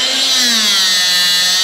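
A portable rebar cutting machine, rated for bar up to 25 mm, runs as it cuts steel bar: a loud, steady whining motor drone close by, continuous throughout with no speech.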